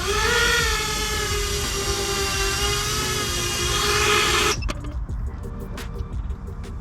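An iFlight Chimera 7 HD long-range drone comes in to land, its propellers making a loud, steady, high-pitched whine with shifting tones that cuts off abruptly near the end, leaving quiet clicks and handling noise.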